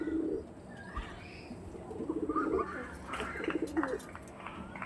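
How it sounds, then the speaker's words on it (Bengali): Pigeons kept by a breeder coo in soft, low, repeated phrases, fairly close, with a few faint chirps and some background noise between the calls. "মাত্র বন্ধুরা 1500 টাকায় এই কোয়ালিটির পায়রা পেয়ে যাবেন"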